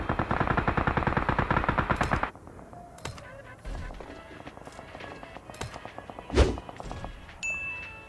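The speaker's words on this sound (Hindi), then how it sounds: "यहाँ पे टीम नंबर 8 की तरफ से फायरिंग चल रही है" Rapid automatic gunfire rattles loudly in a PUBG match for about two seconds, then gives way to scattered distant shots, thumps and footstep-like sounds at lower level.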